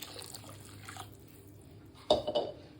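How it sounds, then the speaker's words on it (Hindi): Water splashes into beetroot semolina upma in a pan: quiet kitchen room tone first, then a short burst of pouring and spattering near the end, close and fairly loud, with no talking. "अब इसके अंदर मैं थोड़ा सा पानी और डाल रही हूँ।"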